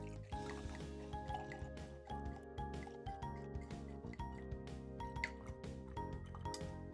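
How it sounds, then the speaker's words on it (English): Wine poured by hand from a bottle, a steady liquid fill with clinks and gurgles running for several seconds, sitting over a continuous musical background. "I'll just hold it in my hands and pour."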